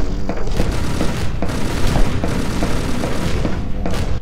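Sustained gunfire from a teammate in the co-op shooter E.Y.E. Divine Cybermancy, a dense loud barrage of booming shots and thuds with repeated sharp bursts throughout, close and continuous.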